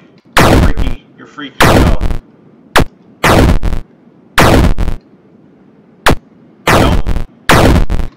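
Loud gunshots ring out in the Tornado Fields video game, about eight sharp blasts spaced irregularly with brief pauses between them, alongside a few spoken words.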